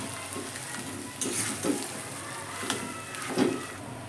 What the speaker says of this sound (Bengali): দেখুন এবার আলুগুলোকে আমি নেড়ে নেবো